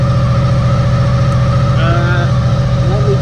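A Honda VFR800 motorcycle engine runs right after starting, a steady close idle with a low buzzing drone and faint whining tones, a brief rising note near the middle.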